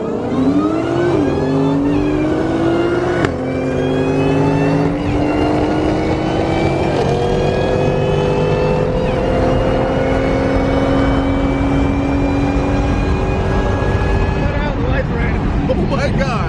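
A 600+ horsepower Cobra roars through a hard acceleration on a test drive, its loud engine note climbing in pitch through the gears and staying up close, with voices talking over it.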